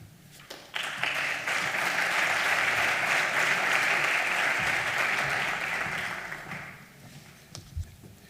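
An audience applauds at a civic health and wellbeing day in Calvià after the mayor is introduced. The clapping is dense and sustained, swelling for about six seconds before tapering off, with little else audible.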